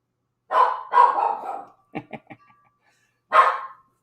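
A dog barks at a garbage truck that has come to empty a dumpster, giving two close, loud barks, a few short yips, then one more bark after a pause.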